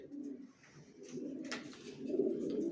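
Racing pigeons coo softly inside a loft, a few low, burbling calls close by in an otherwise quiet space.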